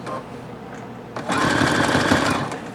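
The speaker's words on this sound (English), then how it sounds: "I'm going to continue to sew this down just like the first side" Sewing machine stitching down the side of a beach tote bag, starting after a quiet second and running in a loud, steady, fast whir of needle strokes until the end.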